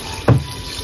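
Water is poured into a pot of native chicken soup, heard as one short, fairly close splash that fades quickly into a steady background hiss.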